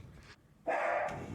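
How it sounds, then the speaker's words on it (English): A dog gives a couple of short barks, a brief faint yelp first and then a louder, fuller bark close by indoors. "Just started barking randomly."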